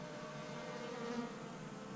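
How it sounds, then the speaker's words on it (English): Soft, steady buzzing of a few bees hovering near a hive, faint and continuous with a slight swell in the middle. "right here is a few bees flying around."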